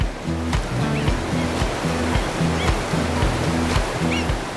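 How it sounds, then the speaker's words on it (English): A waterfall on a salmon river gives a steady, dense rushing roar that fills the whole stretch, with a low musical score playing beneath it. "They're gathering at a waterfall."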